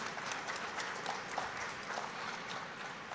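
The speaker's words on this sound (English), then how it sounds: "let's have a round of applause for all those who have made this possible" An audience at an agricultural innovation event claps in a faint, diffuse, continuous patter heard from a distance.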